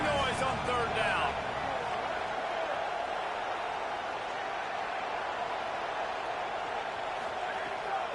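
Stadium crowd noise at a college football game, a loud, continuous roar that holds steady throughout and stays well back from the listener, with a commentator talking over it near the start.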